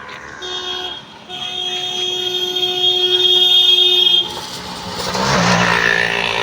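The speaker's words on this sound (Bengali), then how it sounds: "এদিকে ওই সংগ্রামপুর মুখে অটো যাচ্ছে হর্ন দিচ্ছে" An auto-rickshaw passes on a rainy road and gives a couple of sustained horn toots, with a steady hiss of rain and traffic noise continuing in the background.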